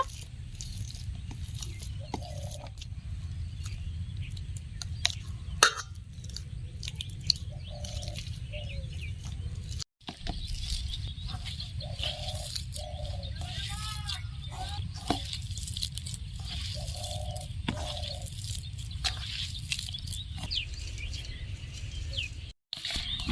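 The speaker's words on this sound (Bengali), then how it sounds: "ভালো করে কলা ডিম গেলে নিয়েছি" Boiled eggs and green banana being mashed by hand, a soft wet squishing that repeats in short bursts at close range over a steady low background hum.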